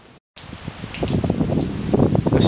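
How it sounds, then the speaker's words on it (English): Steady rain with gusting wind during Hurricane Laura, a broadband wash of drops and blowing air that drops out briefly near the start, then builds louder and fuller with scattered spatters. "A steady rain, and the wind is beginning to pick up"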